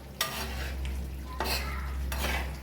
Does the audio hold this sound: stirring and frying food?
yes